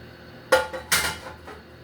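Two sharp metallic clanks of a frying pan and skillet being set down close by, followed by a fainter clink, in an otherwise quiet room.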